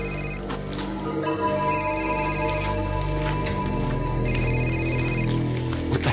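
A car phone rings repeatedly in bursts with a steady electronic trill, fairly loud and close, with no voices.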